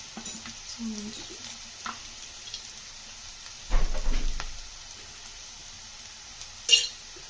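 Dried prawns and grated coconut fry in a pan over medium heat, seasoned with chilli powder and salt, giving a quiet steady sizzle with occasional stirring scrapes and a brief louder clatter near the end.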